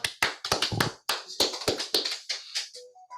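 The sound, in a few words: applause welcoming a speaker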